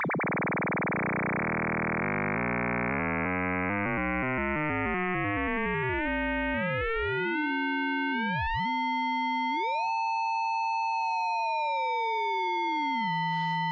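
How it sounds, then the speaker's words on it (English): Synthesized sine wave in Bitwig Grid whose pitch an LFO sweeps up and down by two octaves, starting as a rapid buzzy warble and slowing into long, smooth siren-like glides. "So we're going to have this LFO change the pitch up and down by 2 octaves."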